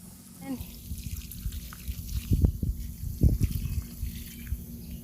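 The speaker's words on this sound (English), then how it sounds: "I'm gonna water all of this in" Water pouring over a hydrangea garden bed during watering, with a steady low trickle broken by a couple of louder splashing bursts, close by and without talk.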